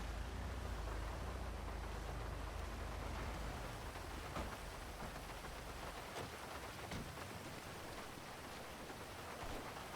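Steady rain hisses in the GTA video game, a dense, even wash of noise with a low rumble early on and faint scattered clicks throughout.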